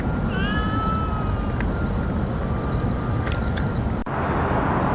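A cat meows in a long drawn-out, wavering call, then gives a couple of short chirps, loud and close over a steady background hum of road or engine noise, with no talking.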